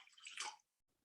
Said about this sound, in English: let's go ahead and pour the 14 Hands can